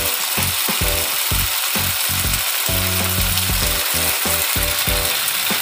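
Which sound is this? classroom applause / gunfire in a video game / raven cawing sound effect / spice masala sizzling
spice masala sizzling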